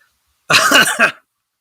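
A single harsh cough, close and fairly loud, in two quick bursts and lasting under a second, with silence before and after.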